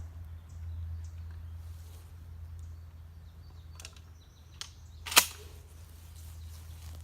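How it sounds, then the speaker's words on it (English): A single sharp shotgun blast fired at a target rings out at a moderate distance, standing alone against a low background hum. "Second shotgun."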